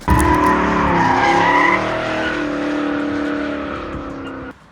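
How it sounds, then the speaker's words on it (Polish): Car tires squeal hard during a burnout, a loud sustained screech over a roaring engine that holds steady for several seconds before cutting off near the end. "biorą auto tylko po to, żeby upalać nimi gumę"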